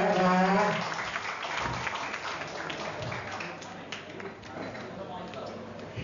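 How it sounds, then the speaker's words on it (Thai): Guests at a birthday party in Thailand applaud, with scattered clapping that stays moderate and fairly quiet beneath an announcer's amplified talk and some crowd noise. "เสียงปรบมือกับคุณแม่ค่ะ"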